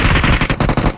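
Rapid automatic gunfire in the mobile shooter game BGMI, a loud close burst of about eight evenly spaced shots packed into one second, with no talk.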